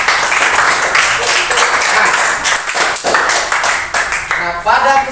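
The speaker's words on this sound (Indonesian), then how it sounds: "Bagus sekali, tepuk tangan dulu ya." A classroom of students claps together for a classmate's correct answer, a dense, steady patter of many hands held for several seconds, with a voice or two faintly mixed in near the end.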